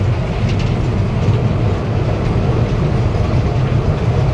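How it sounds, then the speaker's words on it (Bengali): Elevated sky train running along its rails, a loud, close, steady rumble with a faint rhythmic clatter throughout and no voices. "স্কাই ট্রেন দেখছো কত সুন্দর ট্রেনটা"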